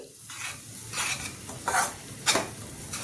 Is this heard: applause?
no